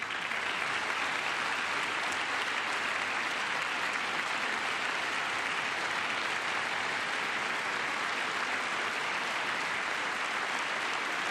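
Sustained, dense applause fills the chamber of Congress during a presidential State of the Union address, a steady roar of many hands clapping at even loudness throughout, with no talking.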